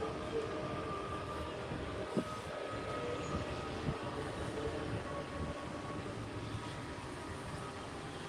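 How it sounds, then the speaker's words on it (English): Train at Disney's Animal Kingdom rumbling steadily in the distance under a busy theme-park crowd, a continuous low rolling drone with a few faint clanks. "I hear a train."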